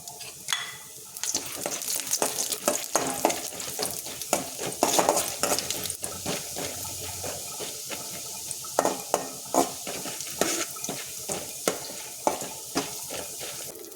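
Chana dal and curry leaves fry in a pan, a steady close sizzle broken by frequent scraping stirs and light clinks of a spoon against the metal.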